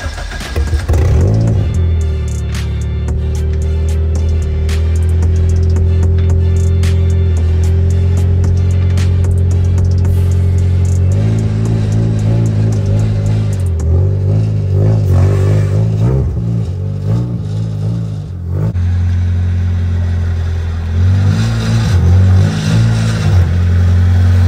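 A Honda K20 engine swapped into an Integra DC2 runs loud and close, settling into a steady idle and then climbing through repeated revs that rise and fall in pitch, with no talking.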